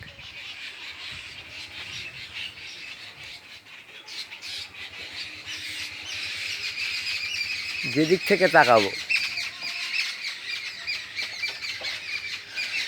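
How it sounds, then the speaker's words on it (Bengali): Birds call among dense garden plants around a house. Sharp squawks and squeals rise briefly in a quick burst near the middle over a quiet outdoor background, while someone talks. "আমি যখনই ভিডিও করি পাখির আওয়াজ হয়, কারণ আমার অনেকগুলো গাছপালা"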